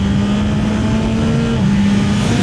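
Yamaha Tracer 9 GT+ motorcycle accelerating hard in sixth gear in D+ riding mode: a loud, continuous engine drone rising slightly in pitch, with heavy wind rush throughout, no pauses, close and without talk.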